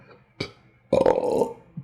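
A storyteller's voice imitates a satisfied burp from the wolf in Little Red Riding Hood after gobbling up Granny: a short gulp, then a loud, drawn-out throaty burp with no other talk.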